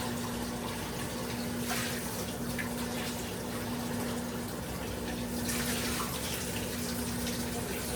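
Steady running water pours from a tap, a continuous broadband rush with a faint low hum underneath, unchanging for the whole stretch.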